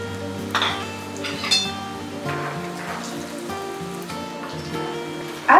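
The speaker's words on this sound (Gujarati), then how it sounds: "હવે તેમાં ફ્રાય કરીશું શિંગદાણા" Peanuts frying in hot oil in a pan for farali chivda, a steady sizzling crackle with a few clinks of a utensil against the pan.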